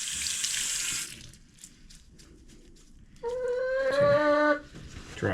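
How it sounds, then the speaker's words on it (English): Cool water runs from a tap in a steady rush while mud is washed off a chicken's foot, stopping briefly before flowing again; a short tonal squeal, probably from the hen, rises near the end. "Cool water. Just wash as much of the mud and dirt and stuff like that off where we're going to be working."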